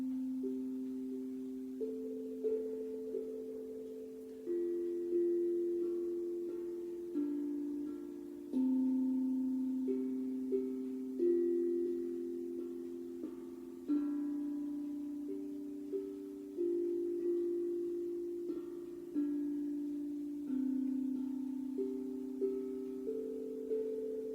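A 15 tone tongue drum plays Twinkle Twinkle Little Star, a steady series of single ringing, bell-like notes struck one at a time, each decaying slowly before the next, close and clear with no talk.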